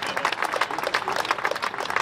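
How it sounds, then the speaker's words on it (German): An audience claps at a groundbreaking ceremony for the A43 motorway expansion, giving a steady, close round of applause for about two seconds with no pauses. "jetzt können Sie klatschen"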